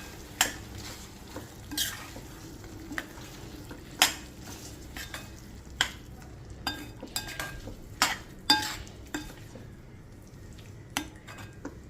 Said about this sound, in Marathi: इथे आपलं वाटण मस्तपैकी भाजलेलं आहे आणि वरती तेलसुद्धा आहे, म्हणजे आपलं वाटण मस्तपैकी फ्राय झालेलं आहे।